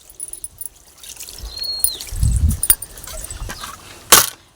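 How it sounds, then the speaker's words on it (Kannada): Water poured into a pot, a short splashing gush in the middle with faint trickles and scattered outdoor sounds around it. "ನಾ ಗುಂಡೆದಾಗಿ ನೀರು ಹಾಕ್ತಾನೆ"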